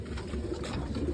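Bangladeshi pigeons coo close by, a soft low throaty burble that runs steadily through the whole brief moment.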